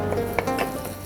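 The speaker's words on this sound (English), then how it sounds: "Once you hear the sizzling sound of garlic" Crushed garlic sizzling in melted butter in a thick saucepan, a brief close crackle of frying with faint stirring and no voices.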